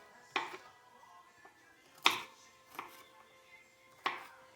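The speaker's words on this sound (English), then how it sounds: "I know how to cut garlic." Garlic being cut with a knife on a board: four separate sharp chops spaced irregularly, close and clear against a quiet background.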